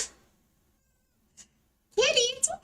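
A pet cat named Mr. Kitty lets out a loud, close meow after a brief faint mew and a quiet pause, the final cry rising and falling sharply.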